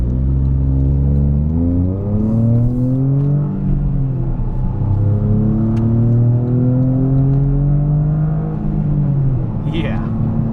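Toyota GR Corolla with an MBRP exhaust, a loud, close engine rumbling and revving up and down in sweeping waves that fill the whole stretch, with no talk over it.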